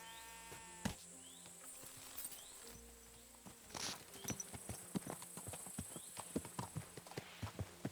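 Horse hooves clip-clop in Kingdom Come: Deliverance II, a faint, steady walking rhythm of hoof strikes that grows more distinct in the second half, with a brief whinny-like sound and soft game ambience.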